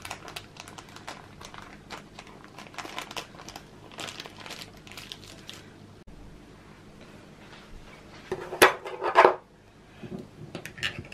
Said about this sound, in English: we just have to take a greaseproof paper